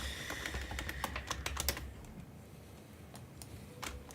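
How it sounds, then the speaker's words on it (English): Rapid, uneven bursts of typing on a computer keyboard, the key clicks close and fairly soft, busiest at first and then thinning to scattered taps. "Do some keyboard bashing to get that right."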